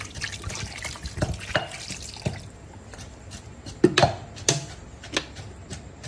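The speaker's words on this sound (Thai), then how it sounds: "เทน้ำลงในหม้อแล้ว" Water runs and splashes into a cooking pot for braising pork stew, with intermittent drips and clinks of utensils; no talking.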